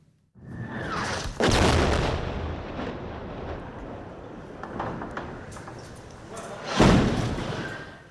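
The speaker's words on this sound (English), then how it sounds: "Those strikes landing near a hotel in Gaza City, forcing people to take shelter inside" Heavy explosions from Israeli airstrikes landing in Gaza City near a hotel, with two deep booms a few seconds apart over a rumbling background and distant voices.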